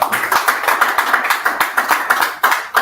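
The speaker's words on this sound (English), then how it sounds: "Please, a round of applause for me." An audience at a young CEOs' business summit applauds, a dense, steady wash of many hands clapping close and loud, with no one speaking over it.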